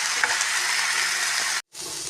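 Chicken frying in a pan, giving a loud, continuous sizzle close by with a faint stirring scrape. The sizzle cuts out sharply for a moment near the end and then resumes.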